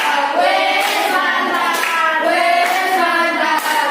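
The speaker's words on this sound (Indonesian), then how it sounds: "Tepuk apresiasi." Classmates in an Indonesian school classroom do a rhythmic appreciation clap after group presentations, voices chanting together in a sung pattern over brisk hand claps, steady and close.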